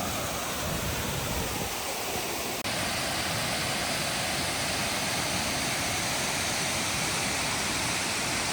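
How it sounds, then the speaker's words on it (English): Falls Creek Falls near Green River, Wyoming, roars as a steady broadband rush of falling water, loud and continuous throughout with no voices. "This waterfall is beautiful."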